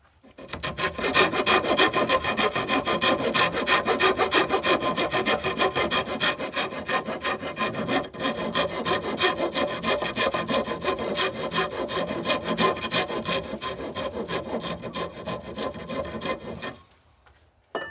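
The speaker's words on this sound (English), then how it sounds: "Clean it up with a shoe rasp." A shoe rasp files a wooden bow handle for a traditional bow, steady rhythmic back-and-forth rasping strokes, close and loud, continuing for about sixteen seconds before stopping abruptly.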